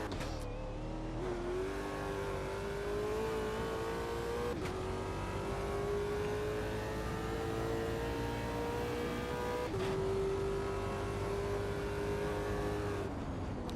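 A race car engine in the Automobilista 2 racing game revs loudly and steadily, its pitch climbing through each gear with two clear shift breaks, and no talking over it.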